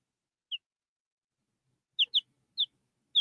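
Chickens, a blue laced Wyandotte and a silver-laced Brahma rooster, giving sparse short high clucks: one single call, then a quick pair and two more spaced calls, close and clear against near silence.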